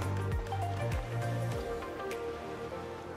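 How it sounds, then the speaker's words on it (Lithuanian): Rain falls steadily during an autumn carp-fishing session outdoors: a continuous, even patter of drops that fills the whole stretch alongside low tonal hum. "Visą dieną kol kas lyja."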